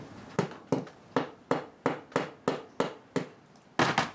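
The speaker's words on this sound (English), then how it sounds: "Take your sleeve, hammer that in." A hammer taps a plastic wall anchor sleeve into a pre-drilled hole with about ten evenly spaced, sharp close knocks, the last two landing in quick succession.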